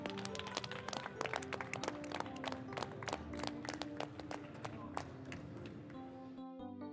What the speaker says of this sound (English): let's just one last round of applause for everyone